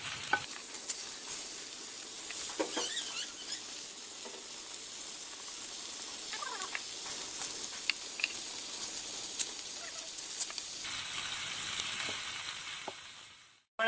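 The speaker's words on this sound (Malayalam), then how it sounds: "വരാല് നല്ലോണം പൊരിഞ്ഞു വന്നിക്ക്." Snakehead fish (varal) frying in a pan, a steady soft sizzle with occasional crackles and stirring scrapes, continuous and fairly quiet throughout.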